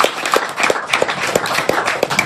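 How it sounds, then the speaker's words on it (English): Rhythmic clapping from a group of athletes at a speed camp, close and fairly loud, a quick steady series of claps that goes on without speech. "give yourselves a round of applause for coming out here, all right?"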